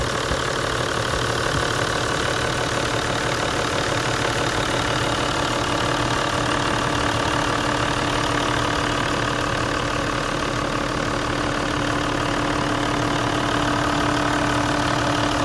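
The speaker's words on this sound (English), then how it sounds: "Here is an 80 series Land Cruiser with a 1 HD FT motor that was rebuilt 3 months ago." A rebuilt Toyota Land Cruiser 80 series with a 1HD-FT diesel engine idles steadily and close by, its even mechanical clatter and low rumble running unbroken with no voices.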